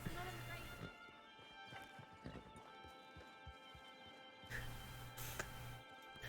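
Horse hooves clip-clop in the Red Dead–based WildRP game, an irregular run of hoofbeats with an occasional whinny under steady speech from a player.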